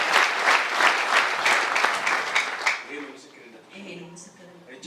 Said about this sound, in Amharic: ከፍ ባለ ጭብጨባ ለጌታ ክብር ይሁን